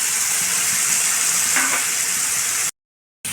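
Meat for a meat paratha cooks in a pan with a steady, close sizzle and a brief stirring scrape partway through. The sound cuts out abruptly near the end.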